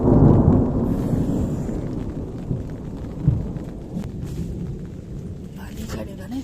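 Rain and a thunderstorm outside during a stormy spell in a home yard, with low rumbling thunder loudest at the start, then a steady wash of rain and occasional nearer knocks.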